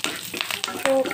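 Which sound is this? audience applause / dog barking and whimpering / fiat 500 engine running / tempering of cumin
tempering of cumin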